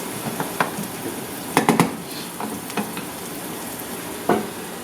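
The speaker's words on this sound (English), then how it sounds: "I'm just sauteing this up because the celery and the onion will take a little longer to cook" Celery and onion sauté for a Bolognese sauce with a soft, steady sizzle, marked by several clustered knocks and scrapes of a utensil against the pan. No talking.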